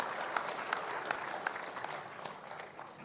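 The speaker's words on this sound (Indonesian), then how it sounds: "berikan tepuk tangan pada dia." An audience claps steadily at a formal dialogue event, a dense wash of applause with distinct sharper claps standing out, moderately distant and fading slightly toward the end.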